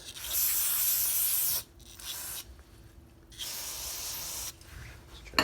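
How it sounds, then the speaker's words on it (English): Two bursts of carburetor cleaner aerosol spray hissing close by, each lasting over a second, separated by a short quiet pause, while cleaning a Briggs OHV lawn mower carburetor. "Spray this with some carb cleaner too."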